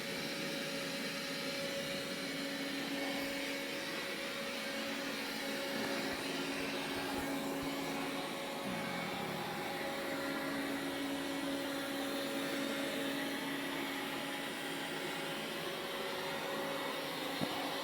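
A Roborock robot vacuum cleaner runs on carpet with a steady, continuous motor whine and brush hum, close and constant throughout with a few faint tonal shifts.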